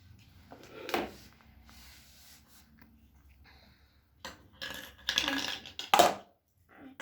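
Cooked food goes into a pan in a home kitchen, with a few sharp clinks and clattering knocks of dishes and utensils separated by quiet pauses.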